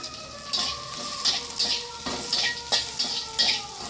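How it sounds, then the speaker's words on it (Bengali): Chopped onion and green chili fry in a pan, with a low sizzle broken by repeated bursts of louder hissing and scraping as the mixture is stirred. "এই যে লঙ্কা কুচি দিয়ে দিচ্ছি বন্ধুরা"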